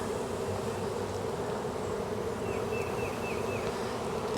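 A swarm of honey bees buzzing steadily as they are brushed down into a hive in an apiary, a dense continuous droning hum close by with no talking.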